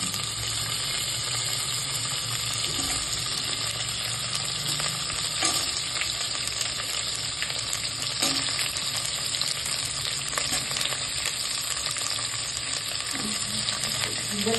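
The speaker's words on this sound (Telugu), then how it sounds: "దీనికి ఫ్రై చేసుకోవాలి." Food frying in a pan, a loud continuous sizzle and hiss with occasional scrapes of stirring, close by and unbroken throughout, with no voices.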